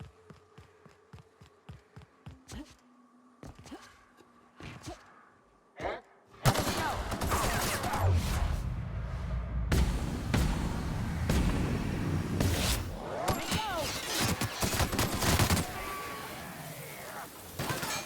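Spaced single shots from The Outer Worlds game start out sparse and rhythmic, then give way to a loud, dense barrage of gunfire and impacts that continues to the end, with a voice speaking partway through.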